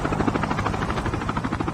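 A helicopter in the Call of Duty Mobile battle royale game gives off a steady, dense rotor thrum that stays loud and constant the whole way through, with no talk over it.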